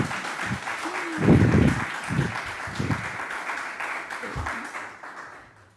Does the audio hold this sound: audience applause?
yes